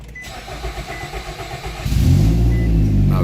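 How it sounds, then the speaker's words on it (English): A 2007 Nissan Rogue engine with a hard-start problem cranks with a rhythmic, uneven churn for about two seconds, then catches and fires into a loud, steady running roar, close by with no talking. "Let me start it again."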